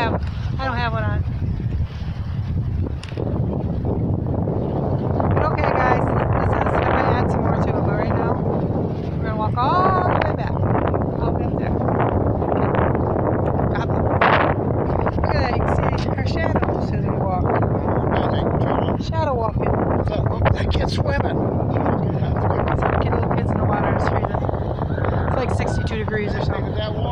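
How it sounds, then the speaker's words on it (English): Strong wind blows along the Lake Michigan shore on a cold day, gusting against the microphone in a constant loud rumble and buffeting, while people talk over it throughout. "It's windy."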